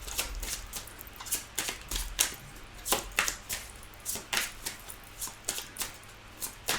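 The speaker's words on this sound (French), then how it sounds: "Alors, je mélange la coupe." Tarot cards shuffled by hand in a quiet room, a steady run of soft, crisp riffling flutters close to the microphone, with no talking.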